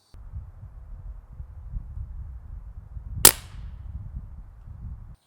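A Beeman Commodore PCP air rifle fires a single sharp, snappy shot near the end, loud and close over a low steady background rumble, with no talking.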